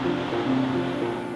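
Continuous rushing of water crashing against rocks below a lookout in Yosemite National Park, a steady broadband roar with faint wind, fairly distant and unbroken, no talking.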